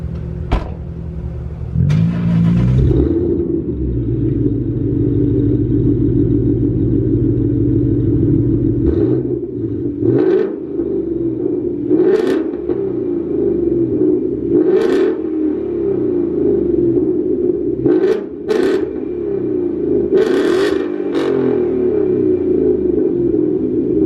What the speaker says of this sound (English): I have a X pipe in the middle, and then I got a muffler delete, so it's pretty much all straight piped